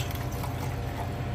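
Nitric acid is poured into distilled water in a measuring vessel, giving a steady, close liquid gush and splash that stays unbroken and fairly even throughout.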